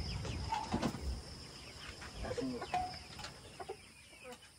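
Rhode Island hens cluck softly in a backyard coop, scattered short clucks and murmurs at moderate distance, fairly faint with light background noise.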